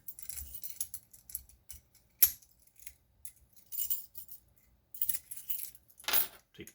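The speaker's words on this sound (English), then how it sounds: "Take the keys off so they stop rattling." Metal keys on a ring jingle and rattle in short irregular bursts with sharp clinks and quiet gaps between, close by, during work on a warded lock.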